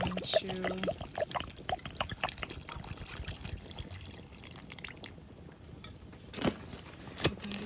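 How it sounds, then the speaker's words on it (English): Dry mac and cheese noodles tipped into a pot of boiling water on a wood stove inside a hot tent: a rattling pour of hard pasta with splashes and bubbling, then quieter simmering, with a voice at moments. "I am just poured some mac and cheese noodles in the pot"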